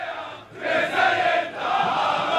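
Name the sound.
crowd of Israeli football fans chanting slogans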